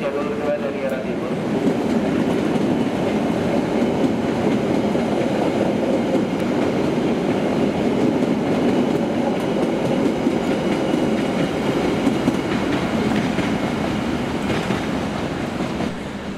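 A commuter train bound for Kampung Bandan via Manggarai rolls in on track 2 from the east, a steady, loud rumble of wheels and carriages that holds for the whole stretch, with a faint voice in the background.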